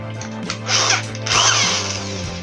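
An electric drill drills holes close by, its motor pitch rising in two strong bursts as it bites in, then winding down between them.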